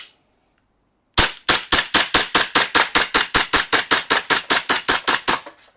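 Rapid string of sharp, loud shots from a gas blowback airsoft Glock 34 replica pistol, roughly twenty evenly spaced cracks fired in quick succession after a brief silence, alone with no talking.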